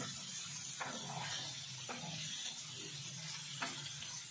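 A dynamite bites filling being stirred in a hot pan, with a steady low sizzle and hiss throughout and a few soft scraping strokes of the spoon, fairly close and with no one talking.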